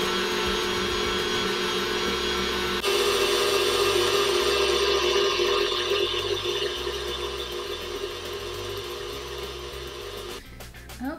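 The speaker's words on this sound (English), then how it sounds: "we're going to bump this up to high and we're going to let it mix until it looks white" An electric mixer whirs steadily on high speed as it beats thick royal icing, a loud continuous motor drone that shifts slightly in pitch partway through and cuts off near the end.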